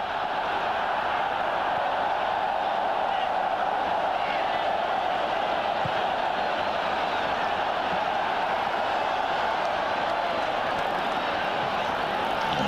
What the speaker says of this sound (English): A vociferous crowd, and really do get behind the side